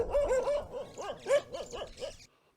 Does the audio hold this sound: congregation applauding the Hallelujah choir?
no